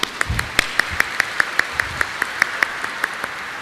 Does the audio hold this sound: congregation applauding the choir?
yes